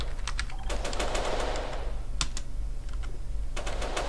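Rapid SMG fire in GTA San Andreas DYOM crackles in quick bursts, clustered early, with a pause and then a few more shots near the end.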